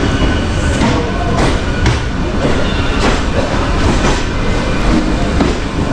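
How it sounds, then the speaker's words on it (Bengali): A Howrah–Bardhaman main line passenger train running along the track, loud and close from inside the carriage, with steady rumble and repeated clickety-clack wheel beats throughout, no voices. "বন্ধুরা, একদম রাইট টাইমে কিন্তু আমাদের ট্রেন ছেড়ে দিয়েছে।"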